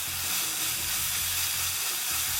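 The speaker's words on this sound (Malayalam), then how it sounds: "തേങ്ങ ചേർത്ത് ഇതൊന്ന് നല്ലോണം മിക്സ് ചെയ്യുക." Grated coconut stirred into hot jaggery syrup in a pan for modakam sweets makes a steady, dense bubbling hiss that holds at an even level throughout.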